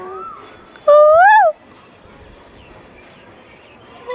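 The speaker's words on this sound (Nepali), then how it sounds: "कोइली कति मजाले कराइरहेछ।" A single loud, rising whistled call of an Asian koel stands out for about half a second against a quiet outdoor background, followed by faint ambient noise.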